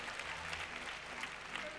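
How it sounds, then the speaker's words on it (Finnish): Dense crowd applause for a band at a 2000 PopFinlandia event, a steady wash of many hands clapping at even loudness with a few brief voices mixed in underneath. "Vielä valtaiset aplodit tälle vetreälle kokoonpanolle"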